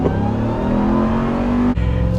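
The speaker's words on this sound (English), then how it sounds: "Let's just floor it from a stop." A 2022 Ram TRX pickup truck accelerating at full throttle from a stop, a loud, close engine roar climbing steadily in pitch, then a brief dip at a gear change before it pulls hard again.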